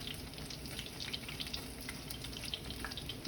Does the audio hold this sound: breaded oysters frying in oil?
yes